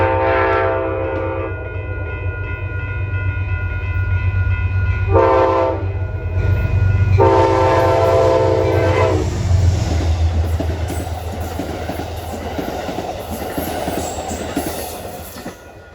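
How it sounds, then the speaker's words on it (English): Amtrak 291 Ethan Allen Express passenger train from New York to Rutland, Vermont, passing close and loud with several long horn blasts, then a sustained rumble of wheels and rail cars rolling by. "This is Amtrak 291, the Ethan Allen Express, from Penn Station, New York to Rutland, Vermont."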